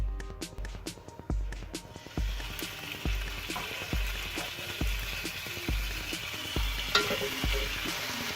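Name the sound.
chicken breasts frying in a pan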